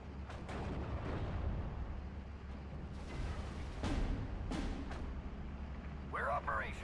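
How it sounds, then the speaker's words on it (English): An M4 tank fires in the Steel Division: Normandy 44 battle game, with low rumbling artillery booms and sharp bursts over a constant engine-like drone, plus a short radio voice near the end. "What's that M4 firing at?"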